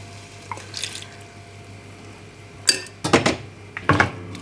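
A metal spoon clinks and scrapes against a pan while stirring a sauce with balsamic vinegar, scattered knocks and taps in short bursts over a quiet kitchen hum.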